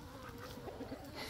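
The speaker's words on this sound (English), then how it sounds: "hang with all the chickens and roosters." Chickens and roosters cluck softly in a short burst of quiet, close clucks and murmurs from a few birds, with no one speaking.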